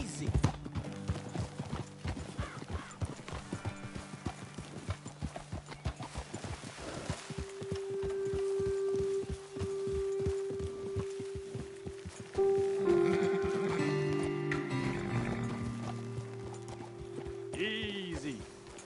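Steady clip-clop of hooves walking over ground in Red Dead Redemption 2, with a horse whinnying and snorting, and someone talking over the top partway through.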